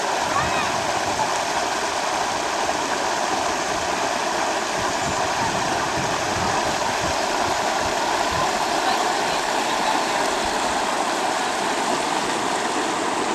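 Clear water of the Mississippi River headwaters at Itasca State Park, Minnesota, flows and rushes steadily over rocks, a constant close, loud broadband wash with no break.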